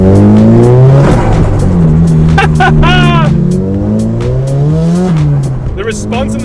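A stock-turbo car accelerates hard through its gears, the engine note climbing and then dropping at each shift, loud and close with brief squealing and voices speaking over it.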